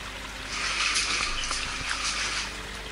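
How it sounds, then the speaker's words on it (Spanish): Small waterfalls splash and rush inside a cave tunnel, the Túnel dels Sumidors in Vallada, as a steady, fairly close wash of falling water with no voices. "Las pequeñas cascadas son frecuentes por los continuos cambios de nivel que presenta el terreno."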